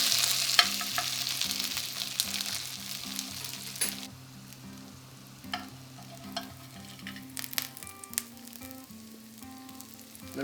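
Potato pancakes fry in a pan with a steady close sizzle and occasional faint scrapes and clinks, and a low hum runs underneath.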